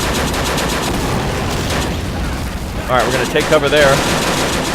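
Rapid .50 cal machine gun fire rattles through a World War II battle in the Men of War: Assault Squad 2 video game, a dense continuous burst under a voice speaking over the gunfire.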